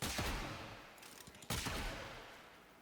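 Ferrox weapon fire in the video game Warframe, two loud booming shots about a second and a half apart, each trailing into a long ringing decay.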